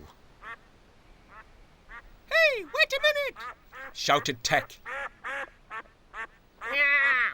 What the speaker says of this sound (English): as he saw the family of ducks waddling along